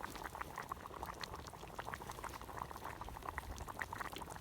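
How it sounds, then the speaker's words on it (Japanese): Stew bubbling hard in a round mess tin pot over a campfire, a steady dense simmer of crackling pops and gurgles that continues evenly throughout, close and fairly loud with no talk. "えらいグツグツいいよ。 音がいいですね。"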